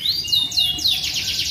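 Canaries held in boxes chirp and trill nonstop, bright rapid upward sweeps and warbling phrases tumbling over one another, close and fairly loud, with no voices.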